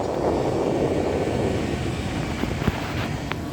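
Cold air blowing steadily from the freezer unit of a 2005 diesel Hyundai Porter refrigerated truck, a continuous broadband rushing whoosh with a few faint clicks near the end.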